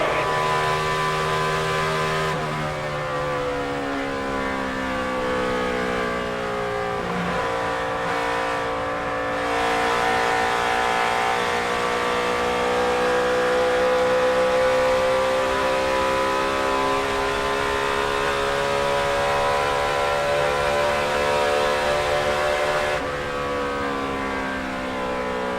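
Dale Earnhardt Jr.'s Budweiser Chevrolet NASCAR Cup car roars on track from inside the cockpit, a loud continuous engine note rising and dipping through gear and throttle changes across the lap, with no talk.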